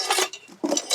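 Utensils and dishes clink and scrape during washing, in a few close, sharp metallic bursts over about a second.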